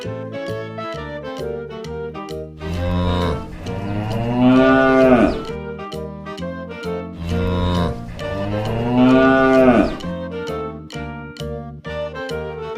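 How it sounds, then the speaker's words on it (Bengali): A cow lowing with a calf standing nearby, two long drawn-out moos set over a steady musical backing of a children's rhyme. "গরু বাছুর দাঁড়িয়ে আছে"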